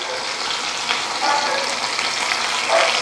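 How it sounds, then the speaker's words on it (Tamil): Garlic sizzles and crackles steadily in oil in a pan, with a few soft stirring scrapes breaking through. "பெரிய பூண்டை எடுத்து நைஸாக கட் பண்ணி வச்சுருக்கிறேன். அதை போட்டு வதக்கிங்க."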